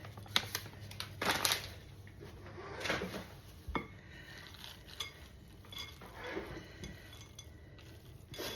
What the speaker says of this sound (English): we're going to put in some cashew halves in pieces